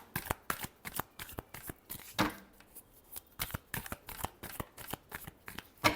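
Tarot cards shuffled by hand at close range: a rapid, uneven run of crisp papery taps and flutters with brief pauses between bursts, no voices.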